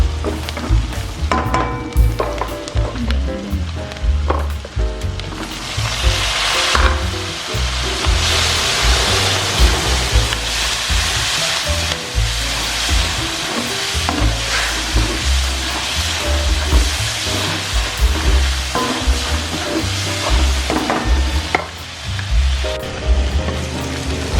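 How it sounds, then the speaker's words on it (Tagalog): Steady loud sizzling of boiled meat frying in its own rendered fat without added oil, a continuous crackling hiss with occasional stirring, close and alone with no talk. "Para ano, maluto siya sa sarili niyang mantika."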